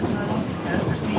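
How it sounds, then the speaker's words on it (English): Georgetown Loop Railroad train in the Colorado mountains, a steady low rumble of rolling cars close by, brief and continuous, with a voice talking over it. "That train's so cool."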